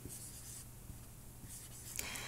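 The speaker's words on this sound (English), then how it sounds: "we're gonna write the numbers under each other and then subtract" Soft scratching of a pen or pencil writing numbers by hand, close and quiet in short strokes over a couple of seconds.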